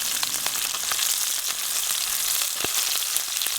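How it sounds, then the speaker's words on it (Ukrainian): Close, steady sizzling and crackling of breaded fish frying in a hot pan, with occasional small pops. "Я смажу рибку, якої сьогодні наловила."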